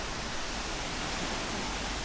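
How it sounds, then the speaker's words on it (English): Steady broadband roar of a waterfall seen from a rock near its base in Pai, Thailand, loud and continuous with no breaks, no voices over it. "Look at this waterfall."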